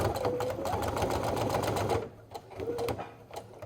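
A sewing machine hums steadily at close range while stitching an infinity scarf with a hidden pocket. It stops briefly, then a short second run of stitching follows.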